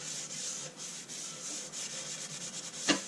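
Hand sanding of a soft, spalted maple bowl about 14.5 inches across, a faint repeated scratchy rubbing in quick strokes, close and quiet, with one sharp tap near the end.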